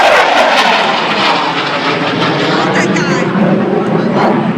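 Fixed-wing airplane passing overhead at the 2012 Brunswick Air Show, a loud continuous engine roar that stays steady throughout while spectators talk excitedly nearby.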